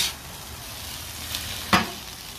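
Tater tots fry on a Blackstone griddle with a steady low sizzle, a soft scrape near the middle and a sharper spatula clack toward the end.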